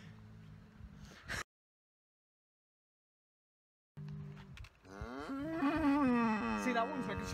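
Cows mooing in a field in Ireland, a long, loud, drawn-out low moo near the end after quieter stretches and a gap of silence, with some background voices.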